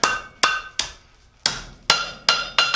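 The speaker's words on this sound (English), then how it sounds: "we're going to line up our 2 inch mark and hammer straight down" A hammer strikes hot steel on an anvil horn in sharp metallic blows one after another at an uneven pace, each strike bright and close with a short ringing decay.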